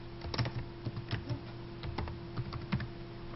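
Someone types a name on a computer keyboard, producing quick, uneven clusters of light key clicks with short pauses between bursts, close and fairly quiet against a steady low hum.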